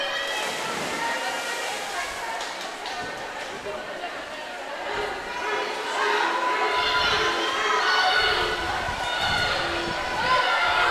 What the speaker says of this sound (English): I love the rhythm of the cheering